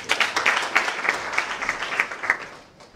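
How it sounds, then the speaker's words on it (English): A modest audience gives a short round of applause at a formal ceremony, the clapping sparse enough that individual claps stand out, swelling briefly and then thinning and fading toward the end. "A round of applause, please."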